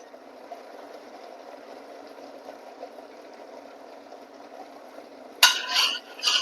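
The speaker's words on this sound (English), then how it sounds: "I'm just going to stir this in" A spoon stirs homemade caramel sauce in a pot, making a soft, continuous swishing close by, and a louder clatter of metal on the pot comes in the final second.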